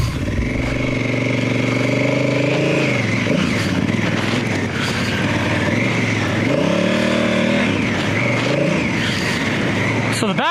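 An adventure motorcycle on Michelin Anakee tires rides through sand in Death Valley, its engine loud and close, revving up and falling back in repeated surges with wind noise.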